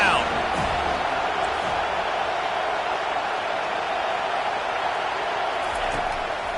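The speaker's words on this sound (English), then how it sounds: "Decibels rising as the crowd gets behind this defense on 3rd down." Roaring stadium crowd in College Football 25 swelling on a third-down defensive stand, a steady loud wash of noise throughout with faint thuds underneath.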